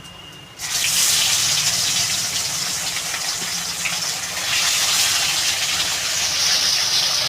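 Fish frying in hot oil in a pan for a Bengali fish curry, heard as a loud, steady sizzle that starts abruptly after a quiet first half-second and continues close up with no talking.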